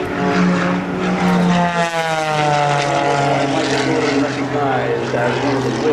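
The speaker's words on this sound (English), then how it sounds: "He has so much energy on that airplane going up, and over on its side." Michael Goulian's aerobatic propeller airplane at the 2004 Rhode Island Air National Guard open house airshow climbs vertically, its engine roaring loudly and steadily nearby with a shifting pitch as it pulls up.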